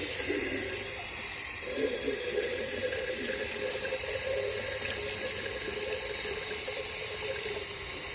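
Water runs from an outdoor tap by a back door beside a herb garden, a steady, unbroken hiss that continues from start to finish.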